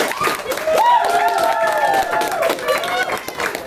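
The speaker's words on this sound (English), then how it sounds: "we give her a big round of applause" A school audience applauds a 6-7 grade advisor, with clapping and crowd noise filling the room while a voice carries over the top, loud and continuous.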